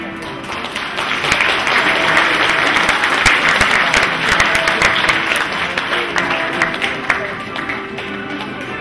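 Audience applause at an honorary doctorate ceremony at Foreign Trade University, steady and dense clapping across the whole stretch, with some crowd murmur mixed in.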